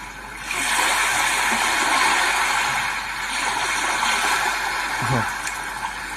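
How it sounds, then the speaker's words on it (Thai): Ocean waves played through a phone app, a steady broadband wash of surf rolling on for several seconds with a slight swell near the end. "ต่อมาสุดท้ายก็จะเป็นเสียงคลื่นครับ"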